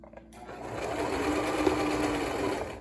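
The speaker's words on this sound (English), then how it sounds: "I'm also just stitching right in the middle of that ribbon, and then back stitch" A sewing machine stitches along a ribbon on a fabric banner with a steady, fast mechanical whir that starts after a brief pause and runs unbroken, close and fairly loud, with no talking over it.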